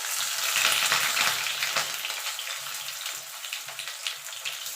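Potatoes fry in hot oil in a wok, making a close, dense sizzle that is loudest at first and then settles into a steady crackling hiss with small pops.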